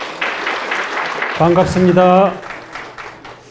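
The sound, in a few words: audience applause for lecturer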